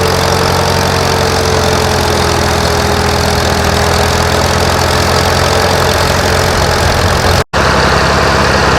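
An antique Oliver farm tractor engine runs steadily at a plow day in northern Maine, a loud, continuous close-up chug with a low idle-like drone, broken by one very brief dropout near the end.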